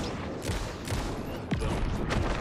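Gunfire in the horror video game Alan Wake II: a few sharp, loud shots spaced across the stretch, each with a short boomy tail over a dim ambient bed.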